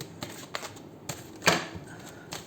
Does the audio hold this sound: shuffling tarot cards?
yes